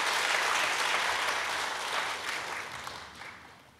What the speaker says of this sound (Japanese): 皆様、今一度盛大な拍手をお願いいたします。